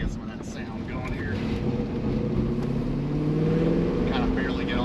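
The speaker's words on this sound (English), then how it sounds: "there ain't nothing like the sound of a Vet" A Chevrolet Corvette C5 Z06's loud V8 engine drones steadily and builds slightly, a deep continuous exhaust rumble heard from close by inside the car on a slick road.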